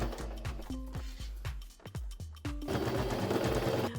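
A sewing machine stitches decorative tape onto pillow fabric in quick, rhythmic bursts of mechanical whirring and thumping, stopping and restarting several times, loud and close.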